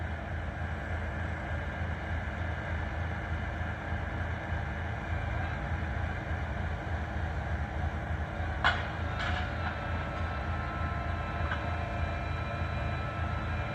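A railway engine in Abbeville rumbles steadily and close, with brief metallic squeals and clanks partway through and no voices.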